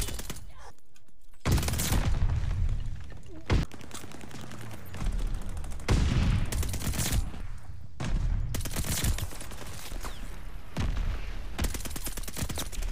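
Bursts of MP40 submachine gun fire in Call of Duty Vanguard/Warzone: loud rapid automatic volleys repeating through the match, with brief gaps, booms and game noise between them.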